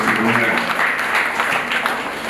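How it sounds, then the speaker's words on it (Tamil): Steady applause fills a church during a Child Jesus feast mass: dense, continuous clapping from a congregation, fairly loud and close, sustained throughout without a break. "அவர்களுக்கும் ஒரு கரகோஷம் கொடுத்துள்ளோம்."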